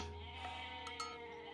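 Goats bleat in Age of Mythology in a short, clear burst over a steady electronic hum, close and moderately loud.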